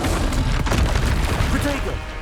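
A spell cast in combat in Hogwarts Legacy, a sustained booming burst of magical energy with rumbling crackle throughout, loud and dense, with a voice speaking over it.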